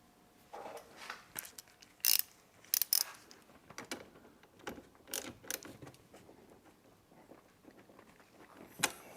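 Ratcheting and mechanical clicks from a wrench tightening a 13mm nut on a car battery terminal, in irregular close bursts with several sharper clacks and metallic handling noises between them.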